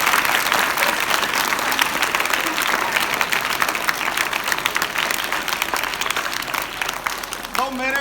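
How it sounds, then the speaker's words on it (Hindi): A school crowd of children at a comedy show claps in loud, sustained applause that carries steadily, with a voice briefly rising near the end. "बजाओ ताली"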